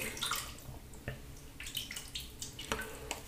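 Water being worked into shaving soap with a faux horsehair synthetic brush, producing wet squelching, dabbing and splashing sounds in irregular bursts, close and fairly quiet.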